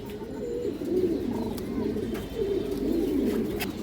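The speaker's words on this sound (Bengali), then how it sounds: "এই যে দেখেন মাদি কবুতর, ডিম বাচ্চা ফুল ওকে আছে দর্শক।" Pigeons kept by a breeder, including ring-eyed females, coo in low repeated throaty phrases close by, several birds overlapping in a steady cooing chorus.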